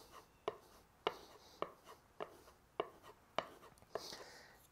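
A hand plane blade stroked across a sharpening stone to work off the burr, a steady series of short, crisp rasping strokes about half a second apart, close and fairly quiet, with no talk.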